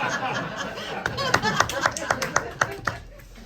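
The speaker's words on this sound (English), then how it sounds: "Thank you, keep that going. Yeah, that's a good, massive applause for it." A small audience at a stand-up comedy show at the Brighton Fringe claps and laughs, a scattered run of distinct handclaps building over chuckles and murmured voices, then fading out.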